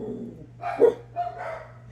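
A dog gives a couple of short barks, moderately close, over a low steady hum.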